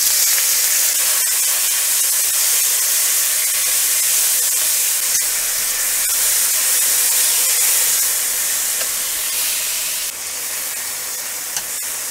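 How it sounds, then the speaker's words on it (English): Beef sizzles steadily in hot oil in a pan while being stir-fried, a continuous loud hiss with light crackle that holds level throughout and dips slightly near the end. "Let's stir fry the beef."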